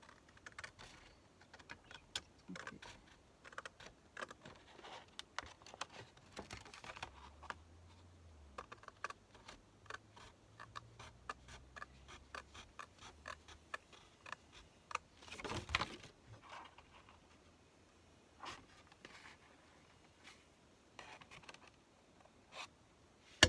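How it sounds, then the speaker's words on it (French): Scissors cutting along the outside of a rolled fabric edge, giving a quiet, close, irregular run of small snips and clicks with one louder rustle partway through. No one speaks. "Je vais couper sur l'extérieur du bourrelet."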